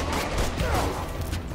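Several guns fire in the Spider-Man: Miles Morales video game, a dense, muffled burst of overlapping shots under a constant rumbling game soundscape.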